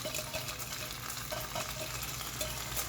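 Chamnamul greens are stir-fried in a pan, giving a steady close sizzle with soft scraping stir strokes throughout.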